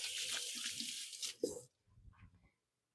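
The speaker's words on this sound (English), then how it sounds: "you give my hands a quick rinse." Water runs from a kitchen tap as hands are rinsed under it, a steady broadband splashing for about a second and a half that stops abruptly, followed by a few soft, faint handling sounds in a quiet kitchen.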